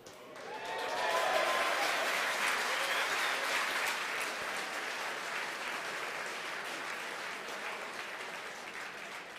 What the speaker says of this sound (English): Again, the applause.